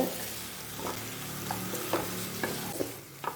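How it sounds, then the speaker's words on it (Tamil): Eggplant and mango being stirred into an anchovy fish curry in a pan, with a spoon scraping and knocking the pan several times over a soft, constant sizzle. "நல்லா கிளறி விடுங்க."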